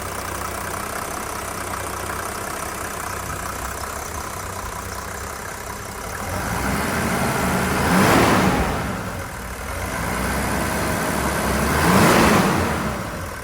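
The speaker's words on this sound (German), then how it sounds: "Also ihr hört schon, rein 6-Zylinder finde ich das Schönste, was es gibt, vom Klang" A Mercedes-Benz W124 300D, a three-litre six-cylinder prechamber diesel, idles with a steady, even drone, swelling twice into brief louder surges around the eighth and twelfth seconds.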